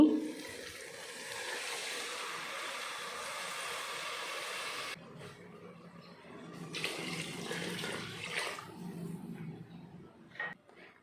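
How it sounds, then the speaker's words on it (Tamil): About two and a half cups of water are poured into a tomato rice mixture in a cooker, making a steady splashing rush for about five seconds, then softer sloshing and stirring. "தண்ணி சேர்த்துட்டு நல்லா கலந்து விட்டுடலாம்."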